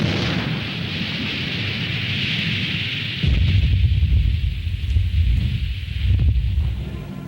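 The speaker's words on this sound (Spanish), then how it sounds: "la bomba se hunde y el fusible de profundidad se activa provocando la explosión" An underwater bomb's depth fuse sets it off: a deep, muffled boom erupts after a tense hiss, followed by a heavy rolling rumble that lingers and churns for several seconds.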